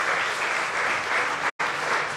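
A church congregation breaks into loud, dense applause during a sermon, continuous clapping that cuts out abruptly for a moment before resuming at full strength.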